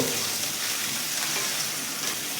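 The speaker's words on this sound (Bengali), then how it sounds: "তার সাথে আদা বাটাটা দিয়ে দিলাম আদার কাঁচা গন্ধটা যাওয়া পর্যন্ত একটু ভালো করে কষে নেব" Ginger paste sizzles in a hot pan for pumpkin chhakka, a loud, dense, continuous frying hiss throughout.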